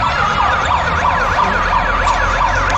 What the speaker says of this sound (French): Pas mal hein, cette petite ambulance.